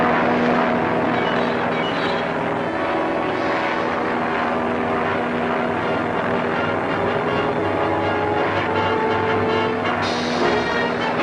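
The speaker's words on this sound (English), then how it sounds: "The plane's out of control." An airplane flying out of control drones with a loud, continuous propeller-engine roar, steady and close for the whole stretch, with no speech over it.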